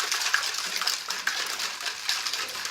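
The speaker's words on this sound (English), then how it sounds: "we're going to shake that up. Make sure it's mixed nice and well." A cocktail is shaken by hand, giving a steady, close rattling slosh of liquid and ice with no talk.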